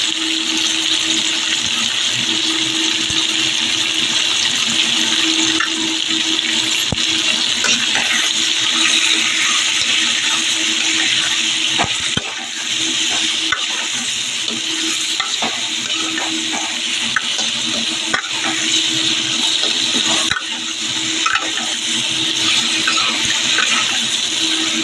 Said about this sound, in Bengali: নুন হলুদ দিয়ে একটু কষিয়ে নিয়েছি